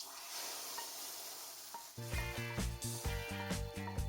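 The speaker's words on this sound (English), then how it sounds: "In a separate pan, add oil, garlic, onions. Cook this until dark brown." Garlic and onions frying in oil in a pan, a steady close sizzle with stirring and scraping, joined by louder music partway through.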